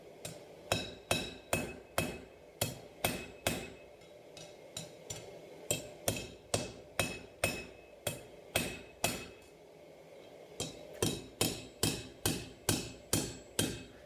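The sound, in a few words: hammering knife blade on an anvil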